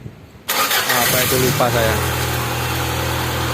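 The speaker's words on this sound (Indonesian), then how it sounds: "Mesin sudah nyala. Suara mesinnya halus sekali ya." A 1992 Honda Accord Maestro with a fuel-injected engine cranks and starts after a brief quiet moment, then settles into a steady, smooth idle close to the microphone while a person talks briefly over it.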